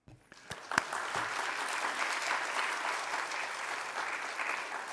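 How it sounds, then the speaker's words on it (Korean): A church congregation at a Wednesday prayer service claps to welcome a missionary to the front, starting with a few sharp, separate claps that swell into steady, moderately loud applause. "나오실 때 우리 박수로 환영하도록 하겠습니다"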